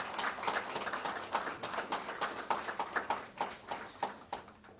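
A smaller group at a Sioux Falls city government meeting claps, at first scattered and overlapping, then settling into slower, distinct individual claps that sound somewhat distant.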